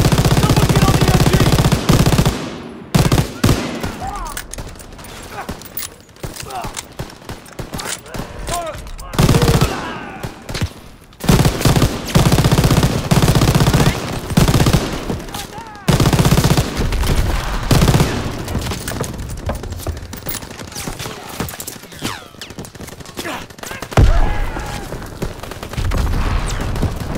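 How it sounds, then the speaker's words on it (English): Call of Duty WW2 battle with sustained machine gun bursts and rifle shots, loud and close, in rapid rattling volleys broken by brief gaps, with shouted voices mixed in. "Open fire! Someone get on the MG!"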